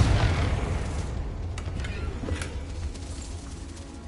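A Confringo explosive spell blast in the video game Hogwarts Legacy: a low, rumbling boom at the start that fades over a few seconds, with faint crackles trailing off, moderately quiet.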